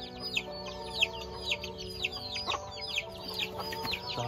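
Free-range chickens on a spacious rural farm in the Philippines cluck and squawk in short, repeated calls, fairly close and lively, over a steady low background hum with no talking.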